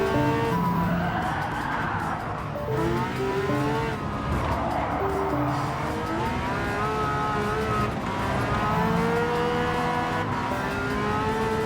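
A car in Gran Turismo 7 brakes hard and its tires skid, long wavering squeals rising and falling over a loud engine roar, repeating in several drawn-out bursts.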